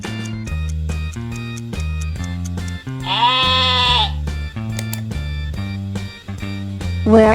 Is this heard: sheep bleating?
yes